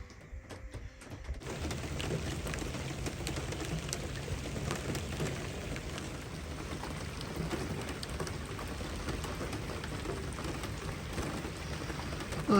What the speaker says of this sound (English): Oh, the rain has started.